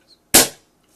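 A single sharp snap from a budget VSR-10 airsoft sniper rifle as the trigger is pulled, loud and close, with a faint click just before and quiet after.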